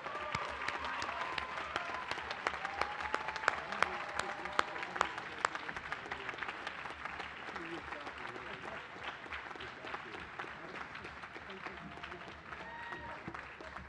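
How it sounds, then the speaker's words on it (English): Audience applause at the 2014 Jewish Theological Seminary commencement, honoring parents, grandparents and families: steady, dense clapping from a large crowd, moderately distant, with a few sharper claps standing out and faint voices mixed in. "a very hearty round of applause for parents, grandparents, significant others, and children"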